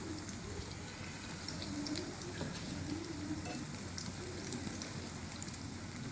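Besan dahi bade frying on low heat in a pan of oil, a soft steady sizzle and crackle that runs evenly throughout, faint and close with no voices.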